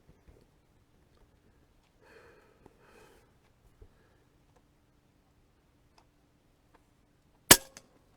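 An AirMaks Arms Caiman X airgun fires a single sharp, loud shot on an outdoor range near the end, following several seconds of near silence with faint rustles and small clicks.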